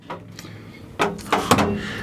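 A door in an RV bathroom being opened, with a few distinct knocks and a sliding clatter, close and fairly loud, with no talk.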